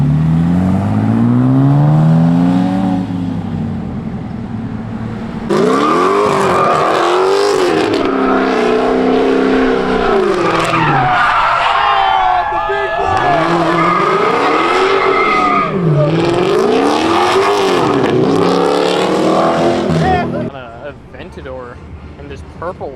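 A McLaren 600LT drives past with a loud, rising and falling exhaust roar, several hard revs swelling over about fifteen seconds before fading, with voices talking nearby.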